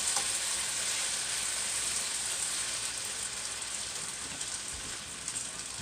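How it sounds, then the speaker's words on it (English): Potatoes fry in a pan, seasoned with salt and pepper, giving a steady, close crackling sizzle with no pauses and no voices. "And here them potatoes fried."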